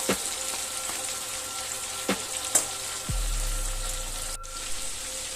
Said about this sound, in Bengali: চিংড়ি মাছগুলো একটু নেড়ে দিচ্ছি।